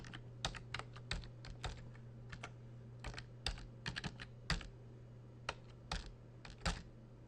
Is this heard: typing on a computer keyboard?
yes